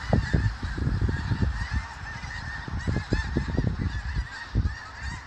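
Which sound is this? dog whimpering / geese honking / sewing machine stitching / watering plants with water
geese honking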